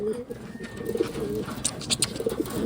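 Pigeons coo close by in a short burst of soft, throaty, repeated low calls, with a few brief higher chirps mixed in and faint talk in the background.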